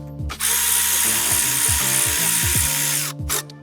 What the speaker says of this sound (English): You can see your ratchet again.